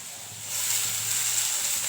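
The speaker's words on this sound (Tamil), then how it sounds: "தக்காளி போட்டு கொஞ்சம் வதக்கிக்கலாம்." Chopped tomatoes sautéing in a hot pan for chutney, a steady sizzle that jumps louder as they hit the oil and keeps hissing evenly.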